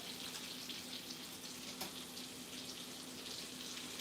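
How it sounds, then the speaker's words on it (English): Food simmering in a pan on a home stove, a steady soft hiss and bubbling crackle heard alone at low level with a faint hum beneath. "we're going to let this simmer a little bit. It's already cooking up."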